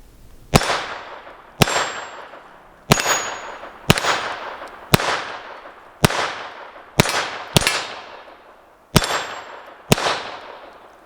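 Taurus TX22 .22 pistol firing mixed ammunition, ten sharp shots at uneven intervals, each followed by a bright metallic ring decaying off steel targets, loud and close with no talking.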